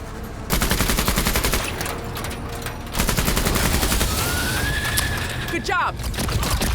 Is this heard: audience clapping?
no